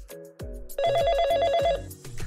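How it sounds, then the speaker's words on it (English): A telephone rings once in a bright, rapid trilling bell burst, set among short plucked musical notes from a cartoon scene. "El teléfono suena. The phone rings."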